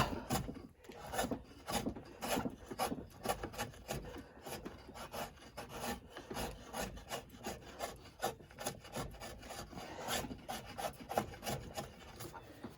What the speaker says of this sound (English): You want to pare away that corner down to your line on both sides